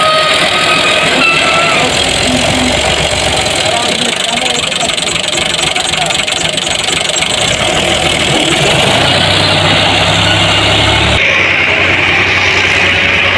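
A tractor engine running at idle, a loud, steady mechanical chug with a rough knocking texture, while people talk nearby over it.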